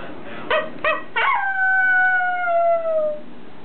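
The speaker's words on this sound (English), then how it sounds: "Let me see how you're making that crazy wolf sound." A few short, sharp yips from a dog indoors build into a long, wolf-like howl that sustains loudly and gradually slides down before trailing off, with no voices over it.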